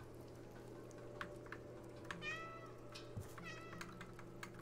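A cat meows twice in the video game Stray, two short harmonic cries about a second apart, up close and moderately loud over a steady low hum and faint rain-like background noise.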